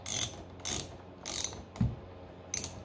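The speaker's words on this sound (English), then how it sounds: "And you're going to have to bolt the tire to this." A nut being tightened to bolt a tire onto the wheel of an SCX6 RC car, heard as four close bursts of ratcheting clicks with short pauses between them.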